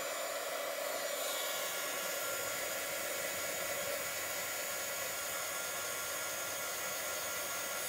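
A heat tool drying a handmade encouragement card blows a constant close, loud airy whoosh with a steady motor whine, running without pause throughout.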